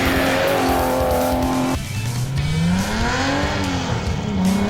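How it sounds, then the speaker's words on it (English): A race-modified Ford Bantam bakkie with a big Nissan six-cylinder engine roars close by, its engine note climbing through the gears with a sharp shift drop, then rising again under loud, steady revving. "you stick a big Nissan 6-cylinder motor in and you go racing"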